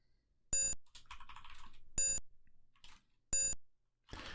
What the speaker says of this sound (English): It appears to be emitting a high-pitched beep.